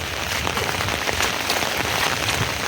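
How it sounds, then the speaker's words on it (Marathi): Heavy unseasonal rain pours down in the Konkan countryside, a loud, steady, dense hiss of drops drumming on surfaces without a break and no voices over it. "खूपच पाऊस पडतो"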